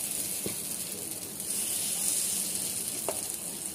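Appe batter sizzles in a ghee-coated appe pan with a continuous close hiss of frying, steady in level, with a couple of faint clicks as batter is dropped in.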